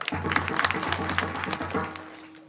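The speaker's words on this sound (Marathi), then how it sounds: "टाळ्या वाजवा एकदा" Audience applause at a devotional kirtan gathering, a steady wash of many hands clapping at moderate distance for about two seconds before fading out, with a low droning hum underneath.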